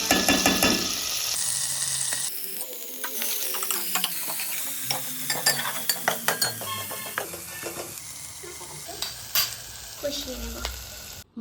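A spice paste of ground onion, ginger-garlic, green chilli and black pepper fries in a pan under steady close sizzling, with frequent scraping and clacking stirring strokes throughout; no one speaks.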